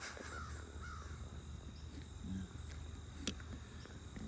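A single crow-like caw sounds at moderate distance over a faint outdoor background of insect chirring and low rumble, with a brief sharp tap near the end.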